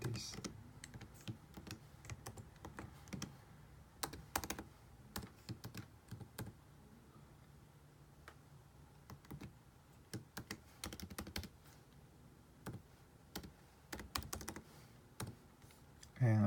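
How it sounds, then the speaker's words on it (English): Someone types on a computer keyboard in irregular bursts of sharp keystrokes with short pauses between, close but quiet over a faint background hum. "maybe it's faster just typing this."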